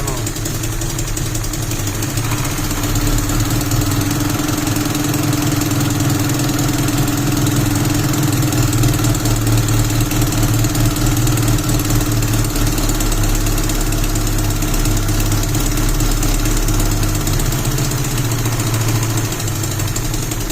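A small engine idles steadily with its choke still open, a continuous droning rumble with a slight knocking vibration that holds level throughout, close and loud.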